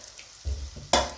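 Finger-cut potatoes fry in hot oil, a quiet sizzle interrupted by two sudden louder bursts of crackling as pieces are added or moved, short and close with no speech.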